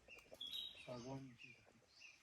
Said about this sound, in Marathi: पक्ष्यांचा खिलबिलाट